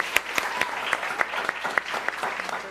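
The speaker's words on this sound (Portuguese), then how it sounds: "Uma salva de palmas também para eles." Applause from a studio audience at an educational TV program, a steady patter of clapping with a few sharper claps standing out, moderately near and fairly quiet.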